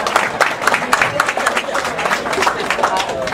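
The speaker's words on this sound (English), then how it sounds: "give yourselves a round of applause" An audience claps in a full round of applause at a heart-smart nutrition talk, dense and steady throughout at close range.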